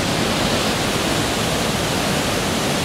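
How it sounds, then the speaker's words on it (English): Waterfall at Blackwater Falls, West Virginia, roaring as a loud, dense, unbroken rush of falling water that fills the whole moment. "There's a rumbling. Imagine your kick drums rumble like these waterfalls."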